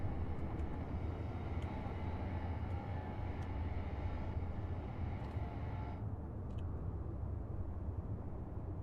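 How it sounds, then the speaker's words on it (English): Spaceship thrusters, braking thrusters included, roar in Space Engineers as a steady, loud broadband rumble that holds for about six seconds, then the upper hiss drops away, leaving a lower continuous drone. "Turn on both thrusters here."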